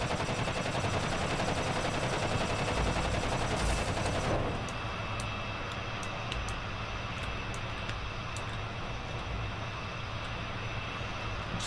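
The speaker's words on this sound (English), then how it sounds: "I've got to kill something with the guns." Gunship guns firing in the game Kerbal Space Program with BD Armory: a dense, continuous roar of rapid automatic fire that cuts off sharply, leaving a steady lower engine drone broken by faint clicks.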